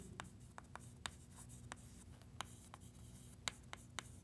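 Chalk or marker strokes on a board during a math lesson: a series of short, sharp scratchy taps spaced irregularly over a low steady room hum, fairly faint and with no talking.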